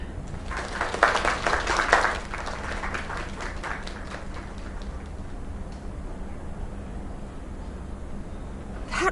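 A crowd in the video game Lake claps and cheers for a performer, loudest in a brief burst near the start, then fading into a steady low patter of scattered clapping that lingers to the end.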